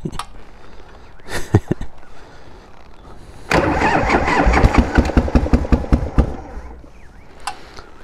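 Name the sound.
1988 Harley Davidson Heritage Softail motorcycle engine starting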